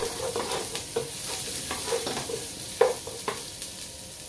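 Onion sizzles and is tossed in a hot pan, with soft frying hiss broken by repeated scraping stirs of a spatula, close and fairly quiet.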